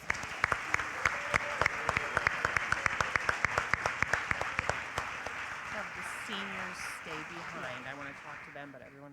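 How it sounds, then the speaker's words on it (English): Scattered, fairly close handclaps from a modest crowd ring out at the Sandy Valley senior awards for the class of 2025, sharp individual claps thinning and giving way to murmured talk toward the end. "Let's give one more round of applause for the class of 2025."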